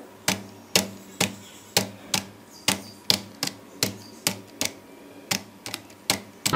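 Rapid, steady keystrokes on a computer keyboard during a Typing Master exercise on a PC, each key tap sharp and close, with a very regular rhythm and no talking.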